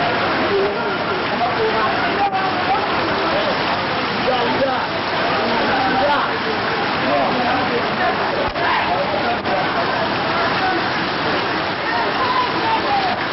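Steady outdoor rain falls at a scout camp, a dense, continuous hiss of drops with no pauses, loud and close throughout.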